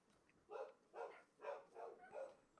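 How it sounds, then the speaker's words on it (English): Dogs bark five times in an even, spaced rhythm, faint and somewhat distant, with no talk over them. "Those are my dogs, by the way."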